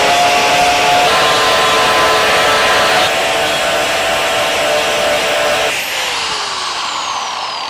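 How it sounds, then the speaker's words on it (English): A power grinder grinds out holes in the cockpit of a sailboat, a loud, steady, continuous whine that holds for several seconds and then drops slightly in pitch near the end. "I'm just going to grind these out so that I can put some laminate over these and close it up."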